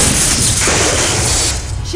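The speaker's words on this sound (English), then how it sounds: "Photon torpedoes, fire." Sci-fi photon torpedoes firing from a starship in battle, a dense roaring blast of noisy whooshing energy filling the whole two seconds, loud and close.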